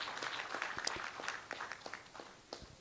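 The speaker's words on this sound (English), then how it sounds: "it's with a big round of applause that we should actually receive Honorable Dr. Mansukh Mandavia into our midst" An audience at a shipbuilding and ship repair session applauds a guest with scattered, fairly sparse handclaps. The individual claps stand out at moderate volume over a soft room murmur.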